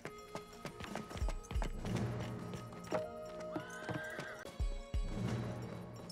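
Clopping horse hooves in an uneven series of steps, with a horse whinny and electronic, game-like tones ringing in the background, in the video game Desperados 3.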